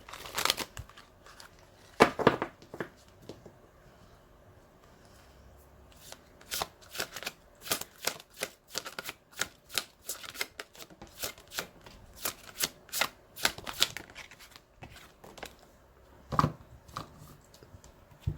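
A deck of Archangel Tarot cards is shuffled close up in quick bursts of crisp, riffling flutters separated by brief pauses, with a few sharper slaps between the runs.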